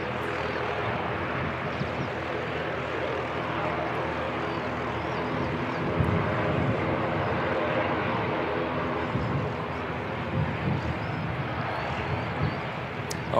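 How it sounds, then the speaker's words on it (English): An ATR turboprop airliner departs Christchurch Airport for Wellington, its engine roar a steady broad drone that holds loud and even for the whole stretch, swelling slightly midway, with no voices over it. "The outbound ATR heading off to Wellington"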